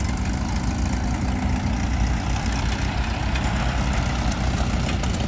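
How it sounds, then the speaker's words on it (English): Hot rod engines idling at an outdoor car and Jeep gathering, a steady low rumbling drone, continuous and moderately loud, with no talk over it. "Here come the hot rods."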